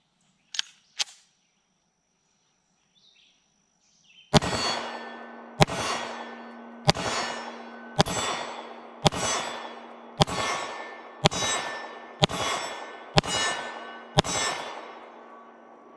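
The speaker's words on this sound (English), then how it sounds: "let's take our first shots with the Jericho 941 and see where she's hitting" Shots from an IWI Jericho 941 pistol fired at steel targets outdoors: two faint early clicks, then a pause, then nine evenly spaced loud shots, each followed by a ringing clang from the steel.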